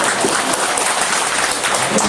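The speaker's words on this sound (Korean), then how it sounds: "박수로 환영하도록 하겠습니다." Sustained applause from a church congregation welcoming first-time visitors, a steady dense clapping that fills the room evenly from start to finish.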